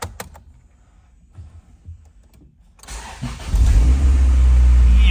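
A Honda S2000 with a wire-tucked engine bay, jump-started from a jump box, sits quiet before a brief crank, then the engine catches and settles into a loud, close idle.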